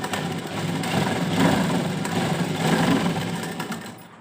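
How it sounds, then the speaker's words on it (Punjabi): A sewing machine runs steadily for a few seconds, stitching lace onto a dupatta, with a close, continuous motor whir and rapid needle chatter that eases off at the end. "ਇਸ ਤਰੀਕੇ ਨਾਲ ਆਪਾਂ ਨੂੰ ਸਲਾਈ ਲਗਾਵਾਂਗੇ"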